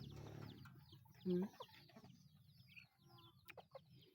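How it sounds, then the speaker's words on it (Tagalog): Chickens cluck in short, scattered bursts at moderate distance, with one louder call standing out amid a faint, busy farmyard background. "mga manok ni kuya."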